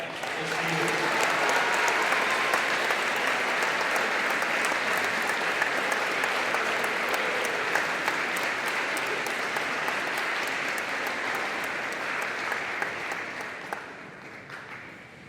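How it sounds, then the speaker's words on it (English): Students at a school awards and cresting ceremony stand and applaud their families, a loud, sustained round of clapping from a large group that fills the room and tapers off near the end. "This is where you clap for them and thank them."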